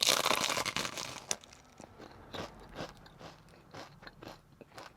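Close, crisp crunching and chewing of a crunchy savory snack, with a crinkling rustle of packaging at first and then irregular bites and crunches fading into quieter chewing.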